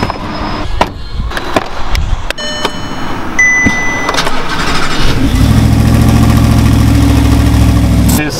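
An Audi R8 sports car cranks up from clicks and whirring, then settles into a loud, close, deep rumbling idle with a steady pulsing throb.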